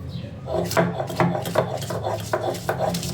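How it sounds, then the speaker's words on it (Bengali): Chilli and garlic ground on a stone grinding slab, a steady rhythmic rasp of stone rubbing stone, each stroke a gritty scrape repeating roughly every third of a second, close and fairly loud. "এর জন্য মরিচ আর রসুনগুলো বেটে নেব"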